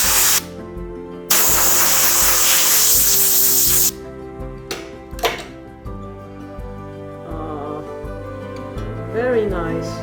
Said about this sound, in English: Spray a little bit of dust away.